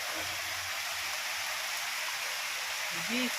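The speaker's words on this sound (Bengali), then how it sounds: "আর কি ধরনের বৃষ্টি" Heavy rainfall hisses unbroken around a home, loud and uniform throughout, while faint murmurs of people surface briefly near the end.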